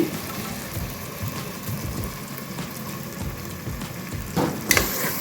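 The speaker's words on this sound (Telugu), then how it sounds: "ఇవి కాస్త ఫ్రై చేద్దాము ఈ ఆయిల్లో" Soaked rice and dal frying in hot oil for vegetable khichdi, a soft, steady sizzle with faint stirring, rising briefly into a louder crackle near the end, heard alone without talk.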